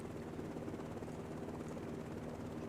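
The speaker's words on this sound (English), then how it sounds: "They won't mind you flying around in a helicopter a moment while you fix your stream." A helicopter flies in a co-op cattle farming simulator game still in development, its rotor drone steady and continuous at close range throughout, with no voices over it.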